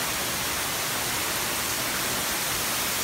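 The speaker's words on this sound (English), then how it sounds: "It is raining like crazy today." Dense, steady hiss of heavy Florida rain pouring continuously, loud and even throughout, with no voices.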